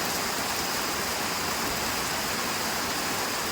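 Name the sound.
rain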